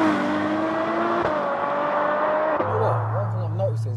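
A Ferrari 812 Superfast V12 revs while driving, its engine note rising and falling under conversation inside the car, then settling into a steadier drone as it pulls away.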